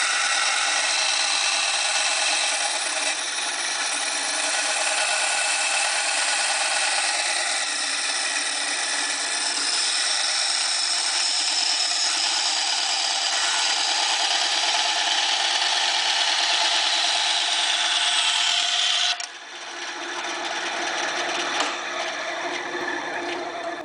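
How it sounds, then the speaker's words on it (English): A bandsaw cuts steadily through straight razor scale material, giving a loud, continuous, close rasping whine that shifts pitch and eases near the end as the cut finishes. "rough it out on a bandsaw and then drill my hole using a drill press"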